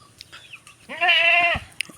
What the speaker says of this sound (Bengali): চলো ছাগলগুলো আগে বাইন্ধে দিয়ে আসি।